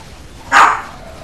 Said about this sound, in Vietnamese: Cờ hó mình đang sủa sủa sủa người lạ nhỉ, chắc khách nào.